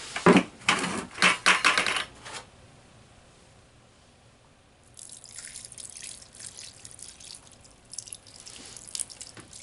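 Dye is poured into a water bath, giving a few loud splashing gushes at first, then quieter trickling and light dripping that fades and returns faintly.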